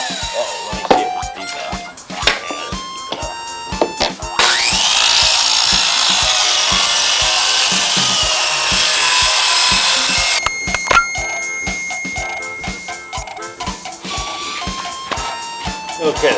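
A power tool cuts through a piece of wood into 14-inch squares, a loud, steady whine lasting about six seconds in the middle, with knocks and handling sounds before and after and someone talking.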